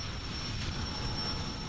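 Gas turbine engines of a WallyPower yacht spinning up, a steady broadband roar with a thin high whine running throughout, jet-like and constant at moderate level.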